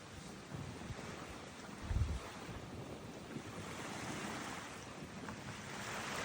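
Ocean waves washing onto a beach beside a beach bar, a steady broad surf wash mixed with wind buffeting the microphone, with one brief heavier low thump of a wave near the start.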